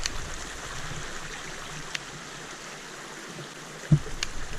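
Faint, steady trickle of a small stream beside a hiking path on the Southern Upland Way in Scotland, a quiet continuous wash with a couple of brief clicks and knocks nearby.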